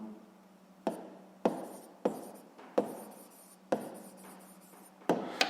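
Pen strokes on paper while a sixth-grade maths exercise is written out by hand, coming as a run of distinct scratchy strokes, each with a sharp start that fades off, close and quiet.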